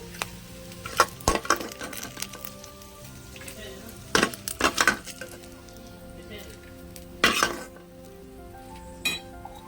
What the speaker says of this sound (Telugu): ఎండుమిర్చి యాడ్ చేస్తున్నాం. ఇవి లైట్గా వేయించుదామండి, ఆడకుండా.